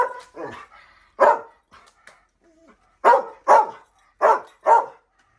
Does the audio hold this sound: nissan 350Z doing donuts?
no